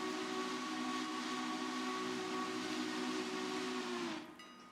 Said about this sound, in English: Whistle sounds